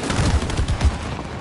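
Rapid gunfire in the co-op video game It Takes Two, a dense, continuous stream of muffled bursts and thumps at moderate loudness.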